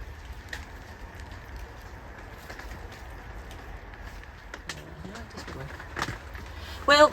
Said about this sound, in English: Well, I'm afraid rain stopped play.